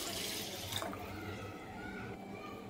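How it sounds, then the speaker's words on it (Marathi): A glass of water is poured onto washed basmati rice in a cooking pot, making a steady, close splashing and gurgling flow with no voices. "आता एक ग्लास पाणी घालते।"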